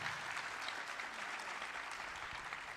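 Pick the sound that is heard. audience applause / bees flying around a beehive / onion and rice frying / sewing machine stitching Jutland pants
audience applause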